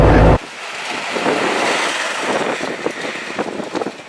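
Wind roaring and buffeting through the cabin of a moving Trabant at about 50 km/h, a steady broadband rush after a brief loud thump at the start, with small gusts and rattles throughout.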